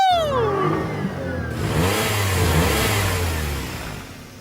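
An anime car engine in Initial D revs hard and drives off, a falling whine at the start giving way to a loud, steady mid-pitched roar that fades slightly at the end.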